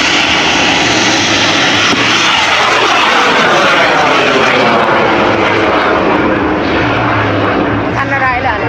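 Bamboo rocket launch at a Bun Bang Fai festival: a loud, continuous roaring rush with a sweeping tone, close and sustained, while people talk and shout over it.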